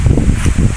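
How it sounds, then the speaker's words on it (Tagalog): Strong gusting monsoon wind buffeting close to the microphone on a farm, a loud low rumble with rustling, no speech. "Lakas ng hangin guys"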